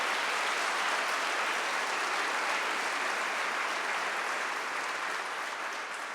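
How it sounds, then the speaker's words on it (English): A crowd at a TEDx talk session applauds steadily for several seconds, a dense wash of clapping that fades slightly toward the end. "please give everybody a round of applause"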